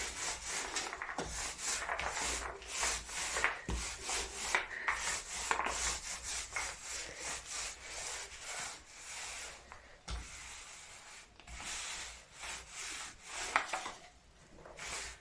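A paint roller spreading primer across a wall, rolled upward from the bottom in random directions, giving repeated close, rhythmic rubbing and swishing strokes with short pauses between passes.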